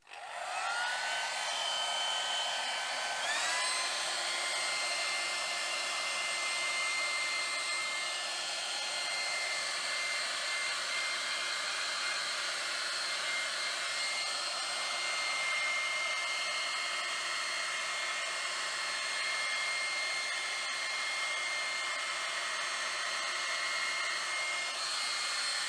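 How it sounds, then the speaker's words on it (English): An old hair dryer runs continuously with a steady, loud whirring blow and a constant high-pitched whine. Nothing else is heard and the sound stays unchanged throughout. "So here is my old hairdryer, and I will reduce the noise of this part"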